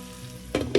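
Bhindi masala of okra cooking on low flame in a covered pan, a quiet steady sizzle followed by two brief louder bursts of frying or stirring near the end.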